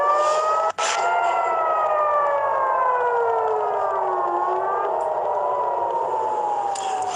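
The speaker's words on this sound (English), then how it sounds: "those were air raid sirens a short time ago in Tel Aviv after Iran launched more missiles at Israel tonight" Air raid sirens wail over Tel Aviv during a missile attack, a loud sustained tone sliding slowly down and back up in a long rising-falling cycle, heard alone with a brief click early on.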